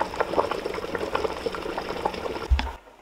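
Ramen broth boiling in a pot with leeks, a close bubbling and popping simmer that continues steadily before a brief knock and a cut to near silence.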